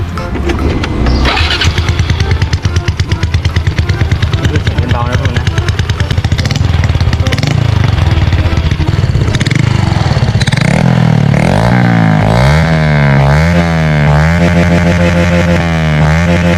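A motorcycle fitted with a loud aftermarket Suan Dok Mai exhaust pipe starts up close by, settles into a throbbing, pulsing idle, then is revved in several rising and falling sweeps.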